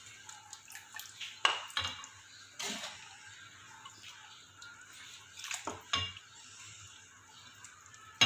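Arvi gosht curry being served out, with metal utensils clinking and scraping against a pot in scattered, fairly quiet knocks over a soft background.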